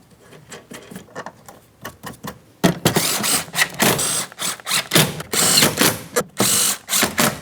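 A hand ratchet snugs up 10mm mounting nuts on a 2003-2007 Cadillac CTS rear door during a power window motor replacement, giving bursts of rapid clicking, sparse at first and then louder, denser runs of close, crisp ratcheting.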